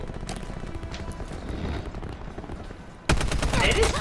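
Submachine gun fire in a first-person shooter, a steady rattle of rapid shots that turns abruptly much louder and more intense near the end, with a voice faintly present in the mix.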